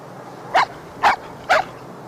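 Dogs at an off-leash dog park in Berkeley, California give three evenly spaced sharp barks, clear and fairly close, with a low background hum between them.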